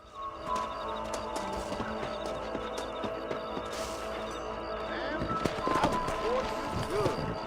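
Horse hooves clip-clopping at a run in Red Dead Redemption, a steady, moderately faint rhythm of hoofbeats with outdoor ambience, a whinny and some voices talking.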